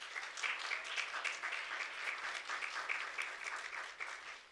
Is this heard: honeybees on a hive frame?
no